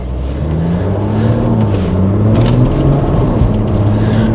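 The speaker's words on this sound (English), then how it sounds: "Let's go out for a drive in the car." A Porsche Macan SUV drives along at sunset, its engine holding a steady loud rumble with rising and falling pitch as it accelerates, tyre and road noise constant underneath.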